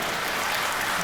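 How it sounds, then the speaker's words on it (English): An audience claps in a steady, dense wash for about a second, loud and close with no voices over it. "clap louder"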